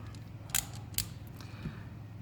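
Socket pushed onto a low profile ratchet: a couple of small, quiet mechanical clicks close by, with a faint creak near the end, set against low background hum.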